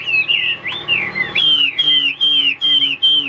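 A songbird freshly let out of its cage whistles a close, loud run of bright, sliding chirps, repeated in quick bursts with brief gaps and nothing behind it.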